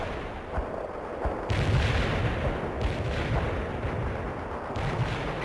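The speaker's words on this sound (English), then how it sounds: "Zulu 9 are firing mortars at the target coordinates" Mortar fire in the World in Conflict video game during a Soviet assault mountain defense mission: a loud, continuous battle din with heavy booming impacts rolling in at intervals, close and dense with no pauses.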